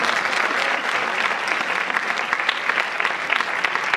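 Audience applause fills an award ceremony at a women's council inter-association event: dense, steady clapping from a crowd, loud and continuous throughout with no talking over it.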